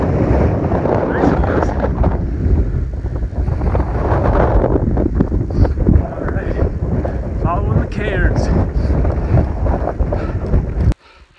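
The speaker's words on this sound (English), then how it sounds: "It's a little breezy up here." Strong wind buffets the microphone on the summit of Penobscot Mountain in Acadia National Park, a loud continuous roar and rumble that cuts off abruptly at the end.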